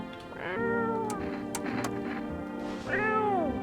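An in-game cat meows twice in a horror-style video game, two drawn-out, fairly loud cries close up, separated by a short pause with faint background noise.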